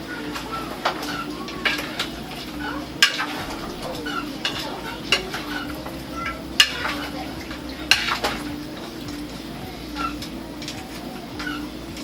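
A spoon turns duck and zucchini curry in a pot, giving a series of soft scraping knocks at irregular intervals over a steady low sizzle, close and fairly quiet.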